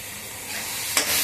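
Tomato puree sizzles and fries in a pan with ginger-garlic-onion paste while being stirred for a parwal-aloo curry, a steady close sizzle that brightens into a sharper hiss near the end.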